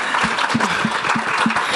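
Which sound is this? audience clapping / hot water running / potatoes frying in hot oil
audience clapping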